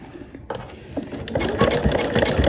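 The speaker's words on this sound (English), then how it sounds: "Now this is just a simple zigzag stitch." A sewing machine runs a simple zigzag stitch, its steady rapid needle chatter close and continuous, growing slightly louder partway through, with no talking.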